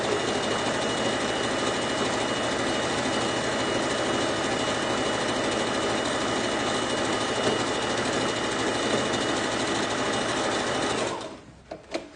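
Domestic sewing machine stitching across a small fabric scrap along a drawn line, running at a loud, steady continuous whir for about eleven seconds before stopping abruptly, followed by a few faint clicks.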